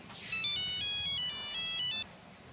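An incoming call's phone ringtone plays a short, bright electronic melody of stepped tones for under two seconds, then stops, leaving a quiet room.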